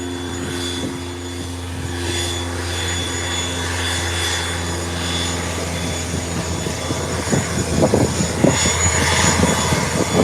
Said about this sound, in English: The Cessna 172, yes it is.